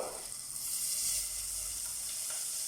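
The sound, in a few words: butter sizzling in a hot pan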